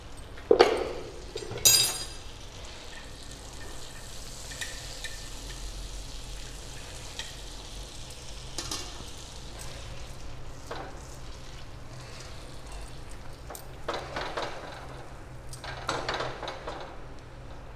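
Pav bread warms in butter and a little masala on a hot tawa over a lowered gas flame, giving a soft, steady sizzle with a few sharp clinks and scrapes near the start and scattered later, with no talking.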